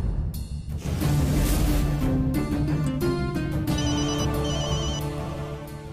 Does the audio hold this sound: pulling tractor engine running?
no